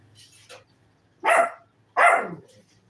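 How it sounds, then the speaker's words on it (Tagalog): A dog barks twice, fairly close, with a short pause between the sharp barks in an otherwise quiet space. "Hihingi yung aso ko."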